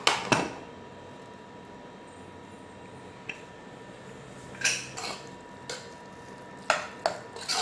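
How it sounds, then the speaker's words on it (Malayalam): A pressure cooker of cooked lentils for a sweet payasam is opened once its pressure has gone: a few sharp metallic clanks and clinks of the lid and pot, spaced apart over a quiet kitchen background, with no talking. "നമ്മുടെ കുക്കറിൽ പ്രഷറൊക്കെ പോയി നമുക്ക് തുറന്ന് നോക്കാം"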